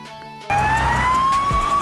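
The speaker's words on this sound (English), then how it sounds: "Australia Police Car." An Australian police car siren starts abruptly and wails loud and close with a steady rising tone, after a brief stretch of quieter background.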